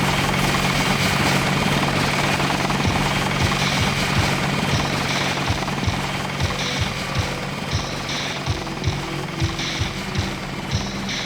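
An aircraft in the game Deus Ex Nihilum spools up for takeoff, a loud dense engine roar with a rhythmic thumping pulse that quickens and grows more pronounced toward the end.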